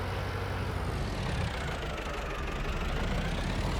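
Tractor engine idling steadily in Farming Simulator 2025, a continuous low rumble with a faint knocking texture, close and unbroken throughout with no talk.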